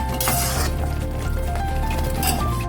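Sweet sugar syrup for motichoor laddu stirred in a pan over low gas, a continuous close, loud wet swishing with light clinks of the spoon against the pan.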